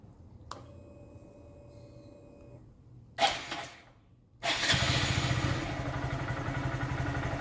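A chime sounds, then a Honda Grom motorcycle engine with a modified air intake cranks, sputters and catches, settling into a steady, close, rapid-ticking idle.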